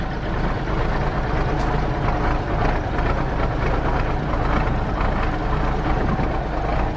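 A 1983 Kenworth K100 diesel engine idles just after startup, a loud, steady low rumble with constant mechanical clatter filling the scene without pause.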